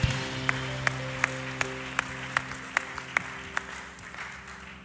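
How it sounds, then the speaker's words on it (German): Rhythmic hand claps, evenly spaced about three per second, ring out during a Wednesday evening church service over sustained keyboard or organ tones. There is no speech. "Fetten Applaus"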